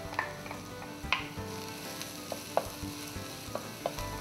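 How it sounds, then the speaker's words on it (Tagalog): Garlic and onion sautéing in a pan, a soft steady sizzle with repeated sharp clicks and scrapes of a utensil stirring, faint and close with no talking. "Igisa natin una yung bawang. Tapos sabayin natin yung sibuyas."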